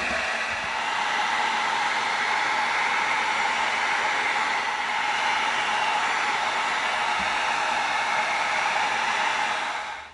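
Heat gun blowing hot air over raw EVA foam to shrink and tighten it, a steady loud whooshing hiss that holds evenly for the whole stretch and cuts off at the end.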